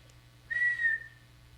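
A single person whistling one clear sustained note with a slight upward bend, lasting about half a second, close and alone over a quiet low hum.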